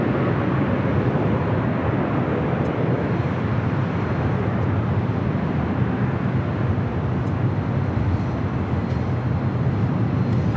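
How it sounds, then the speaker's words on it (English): A China Airlines Boeing 777 freighter touching down on runway 25 Left at LAX: a continuous heavy jet roar with deep rumble, steady and fairly loud for the whole stretch, no speech over it. "China Airlines cargo, 777 freighter touching down at 25 left."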